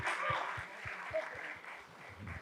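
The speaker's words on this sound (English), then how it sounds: "the applause states that the question is critical" Audience applause at a panel discussion on OTT streaming content, a steady wash of clapping hands from a seated crowd, moderately loud and continuous throughout with no voices over it.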